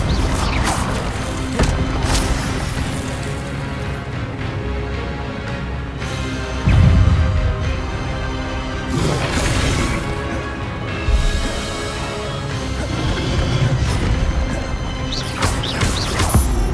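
Spell impacts in a Hogwarts Legacy duel: loud, repeated crashes, whooshes and thuds from disarming, fire and shield spells, overlapping continuously with several heavier hits.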